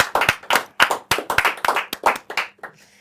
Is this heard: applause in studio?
yes